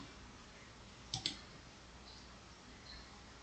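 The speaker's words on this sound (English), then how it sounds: "you can click on this, say upload" Two quick computer mouse clicks, close and faint, in a quiet room during work in the Scratch editor, with nothing else audible.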